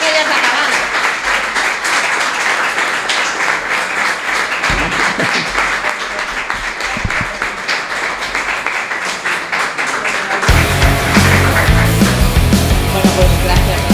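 An audience applauds at the end of a talk, a sustained, dense clapping that carries on steadily for about ten seconds before music and stage sound take over, with a voice faintly mixed in.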